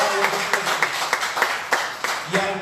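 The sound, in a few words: congregation applause in church service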